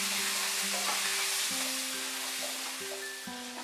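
Mixed vegetables fry on medium heat with a continuous close sizzle. Faint steady tonal hums and a few light stirring touches run beneath it, and there is no talk.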